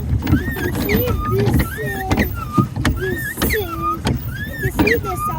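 Pedals of a pedal boat at the Ooty boat house squeak and creak in a rapid, repeating rhythm, with sharp mechanical clicks between the squeals, close and fairly loud.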